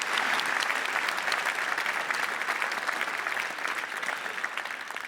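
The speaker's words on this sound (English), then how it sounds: "And don't I get a round of applause for that?" Studio audience on a quiz show bursts into a round of steady, dense applause that holds evenly for several seconds, then eases slightly toward the end.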